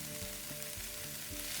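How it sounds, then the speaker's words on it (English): Balsamic vinegar sizzles hard in a hot pan with chicken breast and zucchini, a steady close frying hiss with soft crackles and no voices. "So to get the acid, I will put now a little bit of vinegar. I have a very good balsamic vinegar."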